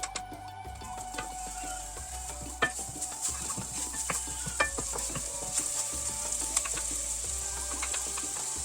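Ginger sizzling in a small amount of oil in a pot, a steady close frying hiss with occasional stirring scrapes and clicks, no talking.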